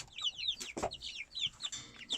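A chicken clucks and chirps in quick, repeated bursts close by, with a brief rustle partway through.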